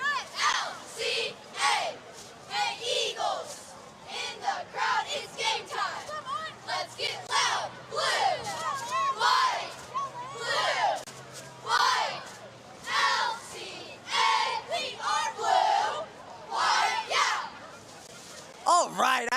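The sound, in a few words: high school football crowd cheering and chanting with dance team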